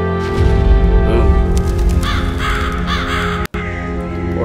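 Crows in the video game A New Beginning give a series of loud, close caws, several calls overlapping against a game soundscape with a faint horse-like whinny.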